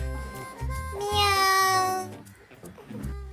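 A cat meows with a drawn-out, rising and falling cry in the middle, between low rumbling background sounds and a short vocal noise at the start.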